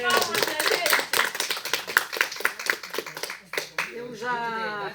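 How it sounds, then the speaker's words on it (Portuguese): Audience clapping at a poetry group's anniversary gathering in Canelinha, a moderate patter of hands that thins out toward the end while voices talk over it. "Uma salva de palmas, né, gente?"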